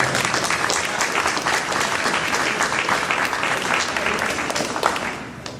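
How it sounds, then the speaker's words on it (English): Audience applause at a mayor's community night out, loud dense clapping from a close crowd sustained throughout before trailing off slightly at the end. "Let's give her a round of applause."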